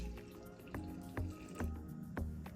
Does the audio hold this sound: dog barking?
no